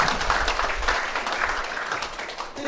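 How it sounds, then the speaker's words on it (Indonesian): A church congregation at a Sunday worship service applauds, producing a dense, continuous wash of clapping at moderate volume with no clear pauses throughout. "Kasih tepuk tangan yang beri buat Tuhan."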